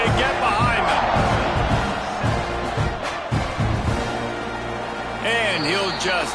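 Stadium crowd noise roars throughout a late-game kickoff in the College Football 26 video game, with a commentator talking continuously over it.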